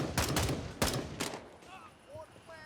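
Gunfire in the tactical shooter Gray Zone Warfare during a night operation: three or four sharp, loud shots in quick succession, then a quieter tail with faint chirps and ambient noise.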